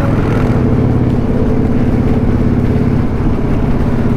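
A car engine drones loud and close, a deep steady rumble that climbs a little under light acceleration.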